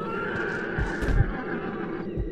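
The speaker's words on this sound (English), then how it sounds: "my horse ain't happy about it" A horse in Red Dead Redemption whinnies in a rising, strained cry over a low rumbling background, with a few soft thumps like hooves shifting.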